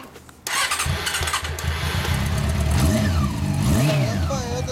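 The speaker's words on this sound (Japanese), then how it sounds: "ほんなエンジン音聞かせてもらえる？" A 2004 Honda CB400 Super Four Hyper VTEC Spec III motorcycle engine cranks and fires up, then idles with a throaty rumble and a few quick revs, close by, with brief voices at the end.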